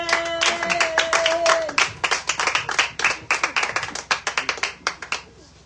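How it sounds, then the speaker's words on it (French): A church congregation claps to acclaim the Lord, a loud, dense round of hand claps that slowly loosens into scattered, rhythmic claps before fading out, with a brief voice at the start. "Est-ce que tu peux acclamer le Seigneur?"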